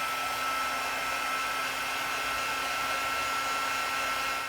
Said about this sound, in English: I've got my Stampin' Up! Heat tool here